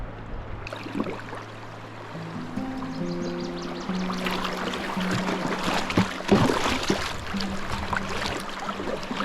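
Water rushing steadily past a canoe on a solo spring trip north of Deschambault, a continuous broadband wash of current with a low tonal drone running beneath, close and fairly loud with no voices.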